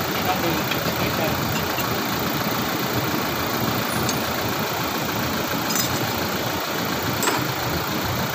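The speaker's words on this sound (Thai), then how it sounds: "ใช้การเปลี่ยนแบตแบบสตาร์ทเครื่องยนต์เราไม่ต้องเลี้ยงไฟนะครับ" A Toyota Fortuner 2.8 engine idles steadily during a battery change, a constant low rumble running throughout with a faint high whine and a couple of brief clicks.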